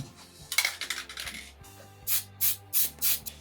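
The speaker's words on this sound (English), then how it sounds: "now I'm spraying the copper" A copper spray paint can hisses in four short, evenly spaced bursts onto a guitar, preceded by rattling metallic clinks, close up.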